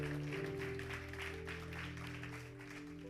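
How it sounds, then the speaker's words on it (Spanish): Congregation applauding during a church sermon, a steady wash of clapping over sustained low organ or keyboard tones, moderately loud and continuous throughout. "Alguien aplauda la gloria del Señor"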